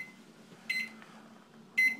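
Two short electronic beeps from microwave oven buttons setting the power level, spaced about a second apart, over a quiet low hum.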